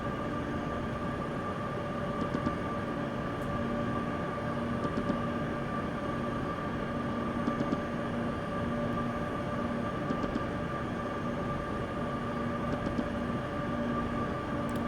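Electric train in Train Simulator 2021 on a single-track line to Davos, a steady humming drone with faint rhythmic clicks of the wheels over rail joints, continuous and even.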